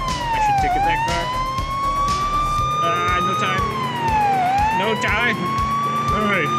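A police car siren in the video game Police Sim wails loudly and continuously, sweeping up and down in pitch, with someone talking over it at times.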